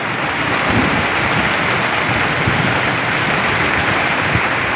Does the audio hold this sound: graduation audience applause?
no